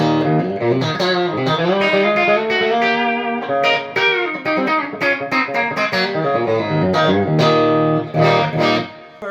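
A Telecaster plays a clean tone through a Steel Singer Drive pedal into a Quilter amp and a 1x12 cab with a Celestion Alnico Gold speaker, giving a bright, lively run of picked chords and single notes with natural decay.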